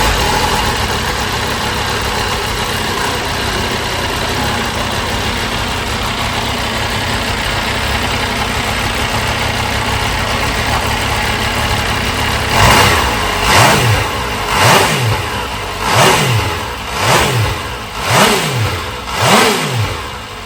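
An MV Agusta Superveloce 800 motorcycle on its stock exhaust idles steadily, then is blipped in a series of short, loud revs that rise and fall several times, heard up close with no talking.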